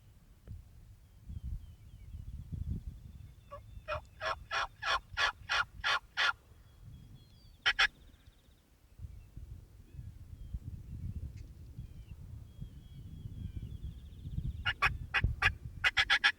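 A wild turkey gobbles during a Missouri turkey hunt, several loud rapid rattling gobble bursts repeated across the clip, nearby in quiet outdoor surroundings with faint background rustle.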